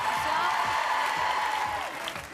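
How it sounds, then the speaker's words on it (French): A television variety show audience claps loudly for a singer, a thick sustained wash of applause with crowd cheering that eases slightly toward the end, with a voice heard faintly underneath. "Je vous demande de l'applaudir très très fort"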